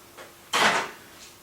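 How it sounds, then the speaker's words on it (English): A microwave door is opened indoors: a faint click followed by a short, sharp latch-and-swing sound, then quiet. "I'll open the door."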